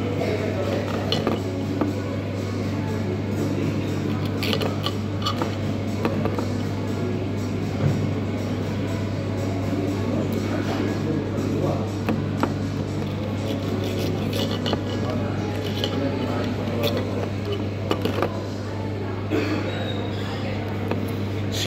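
Knife and fork scrape and clink against a plate while trimming fat off a sirloin steak at a restaurant on the Isle of Skye, with scattered sharp taps over a steady low hum and background murmur.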